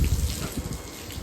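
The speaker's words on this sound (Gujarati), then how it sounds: "ફુવારા વાળું મસ્ત છે ભેંસોને તકલીફ ના પડે" Water sprinkler showers spray down on buffaloes in a cattle shed, a steady close hiss of falling water with splashy patter throughout the short stretch.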